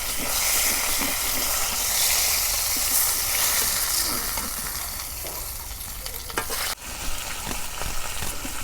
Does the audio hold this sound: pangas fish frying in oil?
yes